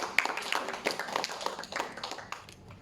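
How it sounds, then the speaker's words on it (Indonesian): Clapping from a small school audience for a student presentation, scattered and uneven hand claps of moderate loudness that thin out and fade over a few seconds. "Tepuk tangan buat Ray."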